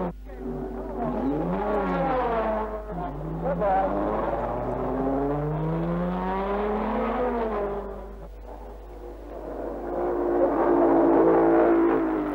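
A Jaguar C-Type race car engine runs during a race, its note rising and falling in long sweeping revs as it passes, steady and fairly loud beneath a voice talking over it.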